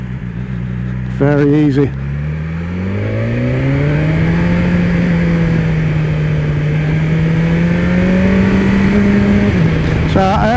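A BMW S1000 XR motorcycle, a 2020 model, is taken down into first gear through a sharp hairpin, its engine note climbing then holding a steady loud drone, with brief speech near the start and end.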